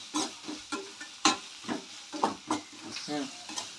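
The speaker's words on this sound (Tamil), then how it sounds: "ப்ரௌன் ஆகிற வரைக்கும் நல்லா வதக்கணும் வெங்காயம்." Onions sautéed in a pan until brown for an Andhra-style chicken curry, with rhythmic stirring strokes over a soft sizzle, each stroke a distinct close scrape in a steady beat.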